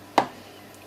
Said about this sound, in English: I'm just going to give this a tap down before I pour